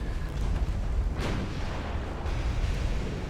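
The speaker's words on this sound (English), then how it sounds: "Not ever thinking that she could take a torpedo from a battleship's underwater torpedo tube." Torpedo strike on a small Japanese torpedo boat in the naval strategy game Ultimate Admiral Dreadnoughts, 1890 era: a heavy, rumbling explosion with a sharp burst partway through, sustained low roar throughout, no voices.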